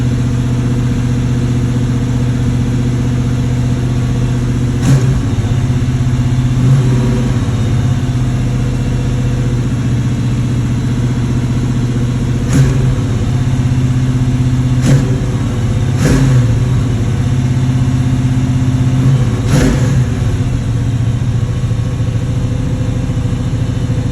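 A 1979 Chevrolet El Camino engine runs while warming up on a high idle, a loud steady rumble with a few brief sharp clicks or knocks over it and no speech.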